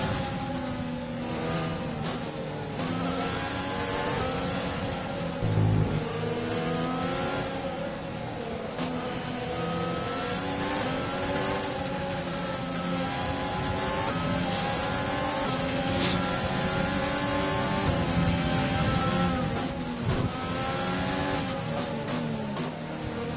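Race car engines at the start of an IndyCar race in the F1 2020 video game, a continuous loud, close, revving drone of multiple cars with rising and falling whine as they accelerate, no voices.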